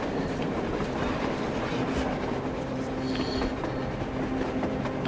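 A train in the video game Metro Exodus rolls past on the surface, a loud, continuous rumble of wheels with rhythmic clickety-clack and faint squealing, steady throughout.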